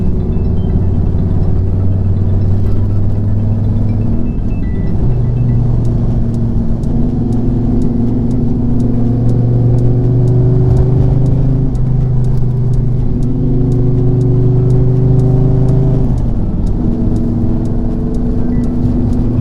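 A Dodge Viper engine idles loudly and steadily, its pitch rising and falling in gentle revs throughout, close up with no voices.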